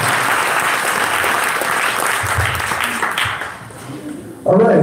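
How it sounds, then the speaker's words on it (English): A warm round of applause rises from the audience at an entrepreneur and investor gathering, steady and full for several seconds before thinning out as a voice starts speaking at the end. "give them a warm applause"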